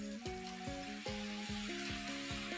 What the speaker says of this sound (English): So we'll fry it again now.